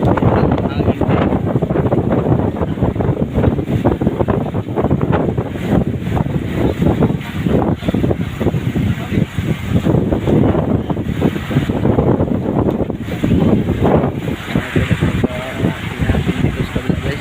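Strong wind roars across the open sea around a boat, a loud, constant buffeting rush over the microphone mixed with sloshing waves, with no clear voices standing out.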